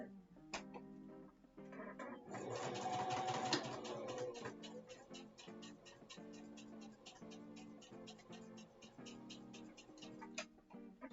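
A sewing machine stitches appliqué stars with a fast, even run of ticking needle strokes, near and fairly quiet, with a brief louder whirring stretch early on.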